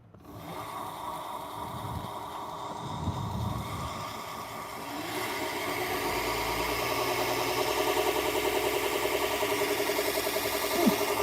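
A powered sharpening machine spinning at 2,000 RPM works the edge of kitchen knives, giving a steady, close mechanical whir and hum that grows slightly louder as it continues, with no talking.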